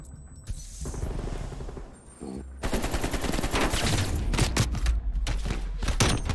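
Rapid gunfire from an esports video game match, with a quieter stretch of shots and effects giving way to dense, loud, continuous bursts of automatic fire and impacts that run to the end, no talk over it.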